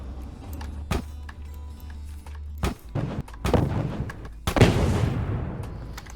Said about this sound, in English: I've been trying to make an explosion that sounds large.